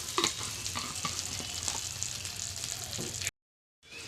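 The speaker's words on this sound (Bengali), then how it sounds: "দেখুন ডাল ভাজা হচ্ছে।" Dal lentils frying in a pan with ginger for a vegetable khichuri, a steady close sizzle with scraping stirs, alone without talk, cut off abruptly near the end.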